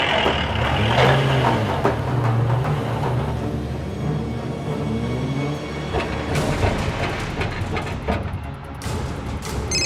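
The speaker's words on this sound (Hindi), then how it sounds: "मैं एक टेम्पो में हूँ और टेम्पो फर्नीचर से भरा पड़ा है" A small tempo truck loaded with old furniture drives along, its engine droning and rattling steadily up close with road rumble and brief brake or body noises, no clear talk over it.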